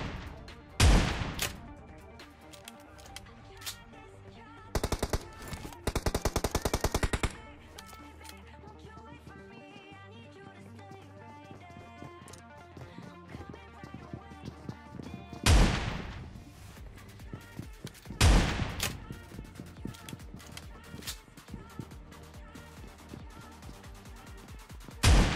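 Shotgun fire from an S686 in a solo-versus-squad PUBG Mobile match comes in several loud, sharp bursts spaced across the stretch. Other gunfire and game noise rumble between the blasts.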